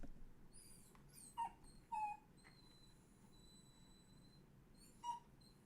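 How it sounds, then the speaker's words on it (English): A dog whines in short, high-pitched whimpers, three or four brief cries spread out with pauses between them, fairly faint against a quiet indoor background. "I just don't understand like how to handle him when he's just whining like this."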